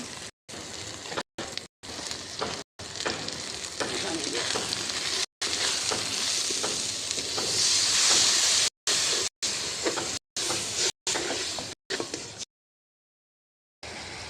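Ginger, garlic, turmeric, chili powder, cinnamon and cardamom sizzle and fry steadily in a pan over a clay stove on a rooftop garden, a loud continuous hiss with scraping stirs, broken by several brief silent gaps.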